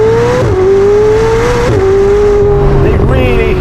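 A McLaren 765LT Spider supercar engine holds a loud, steady roar with a strong tonal pitch that shifts slightly with gear or throttle changes, close and dominant throughout, with faint wind and road noise underneath.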